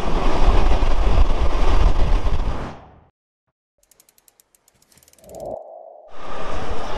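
A Ruposhi Bangla Express passenger train bound for Benapole gives a loud, close rumbling roar for about three seconds, then cuts to near silence broken by faint ticks before another rushing surge returns.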